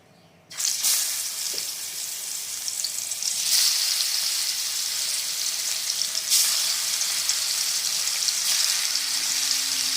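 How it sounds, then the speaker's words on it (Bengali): Pieces of tuna frying in hot mustard oil, a loud, steady hiss and sizzle that swells as the fish goes in, with occasional crackles and bursts of spitting. "আর তেলটা গরম হলে কিন্তু আমরা মাছগুলো প্রথমে ফ্রাই করে নেব।"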